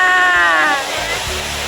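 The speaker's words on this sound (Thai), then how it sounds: "เราได้มาเจอน้ำตกที่เราตามหากันมาตั้งแต่เมื่อวานนะคะ" A waterfall near Bandung, Indonesia, roaring as a loud, continuous broadband rush close by, with a brief whistling tone over it at the start.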